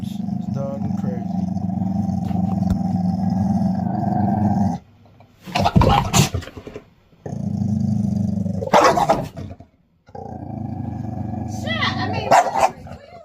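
A bulldog named Shadow growls in long rumbling stretches and breaks into a few sharp barks at a cane, loud and close, with people talking over and between the outbursts.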